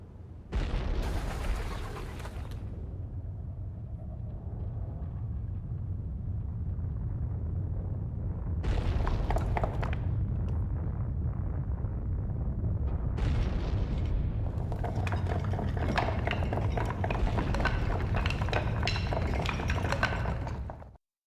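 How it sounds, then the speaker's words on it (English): Low earthquake rumbling in a Parasite Eve game cutscene, a continuous deep roar held steady throughout with bursts of crashing debris and shaking noise layered on top, loud and sustained without speech. "We needed to trigger that cutscene so that we could enable that earthquake"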